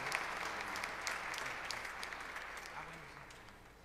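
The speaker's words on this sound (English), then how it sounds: "let's clap for the Lord Jesus" A church congregation claps during a Christmas Mass celebrating the Nativity, a soft, fairly distant patter of hands that gradually fades, with a faint voice underneath.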